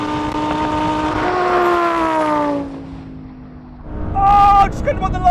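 A Lamborghini Huracan Performante screams at high revs in a drag race, bouncing off the rev limiter before the pitch drops, then surges again, loud and close.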